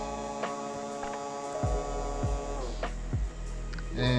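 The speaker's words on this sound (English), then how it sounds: "the motor slowed down when 10 is the value" A small DC motor in a robotics lab runs with a steady tonal hum, then slows, its pitch sliding down in a few steps, close and alone with no talk.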